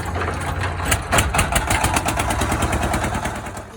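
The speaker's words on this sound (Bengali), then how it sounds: "নৌকা যেহেতু স্টার্ট হয়ে গেছে" A boat engine runs steadily at a river ferry crossing, a continuous low mechanical drone with a faint regular chugging pulse, fairly close and alone.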